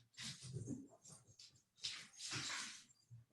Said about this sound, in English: I think it's my dog outside.